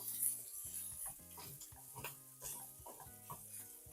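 Chopped red capsicum frying in a pan, a continuous soft sizzle with scraping, rhythmic stirring strokes of a utensil against the pan, close and alone over a faint musical background.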